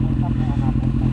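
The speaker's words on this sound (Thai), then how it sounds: "เดี๋ยวดับเครื่องก่อน" Kawasaki Z800 motorcycle engine idles close by with a steady, low, throbbing rumble throughout, faint voices underneath.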